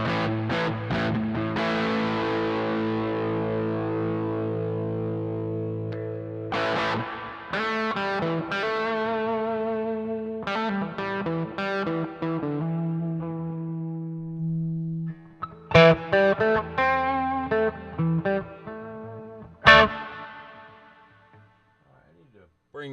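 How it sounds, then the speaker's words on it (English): Distorted electric guitar played through a Synergy amp in a live studio session, sustained chords and single notes ringing loud and continuous, then thinning into sparser plucked phrases toward the end. "I'm going to take some of this distortion off for Amazing Grace here"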